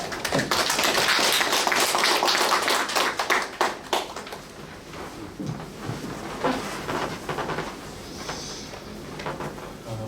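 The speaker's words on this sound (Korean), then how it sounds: "박수로 환영해 주시면 감사하겠습니다" An audience at a Christian forum in Korea claps to welcome a professor to the podium, with a loud burst of applause that thins into scattered claps and settles into quieter room noise.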